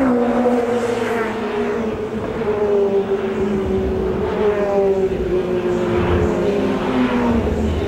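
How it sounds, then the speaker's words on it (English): WTCC touring cars race around the street circuit of Pau in southwest France, a loud, steady engine drone that rises and falls as cars stream past. Faint commentary may sit underneath. "Cars streaming around the streets of Pau in the Atlantic Pyrenees foothills, southwest France"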